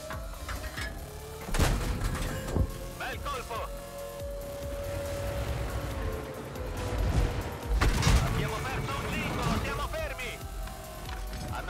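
Tank cannon shots in World of Tanks ring out as a few heavy booms with thuds and cracks, heard mid-battle under steady engine rumble while someone talks over it.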